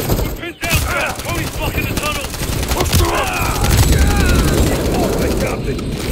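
Gunfire in a Call of Duty: Modern Warfare 3 campaign firefight in a tunnel, with sustained rapid automatic bursts and booming impacts rolling on for several seconds while a voice talks over the chaos.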